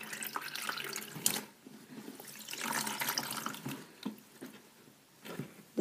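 A dirty pillowcase is soaked and worked in soapy water, with close splashing, sloshing and dripping in uneven surges and brief pauses.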